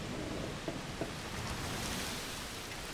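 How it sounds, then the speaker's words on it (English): Rain in the game A Plague Tale: Requiem, a faint, steady hiss of falling water with a few soft, brief patters and no voices. "Is that the rain?"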